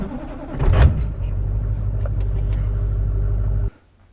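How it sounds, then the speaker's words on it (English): A Duramax diesel truck engine cranks and catches, then settles into a loud, steady idle rumble close by for about three seconds before cutting off abruptly. "Now let's see if the Duramax will start."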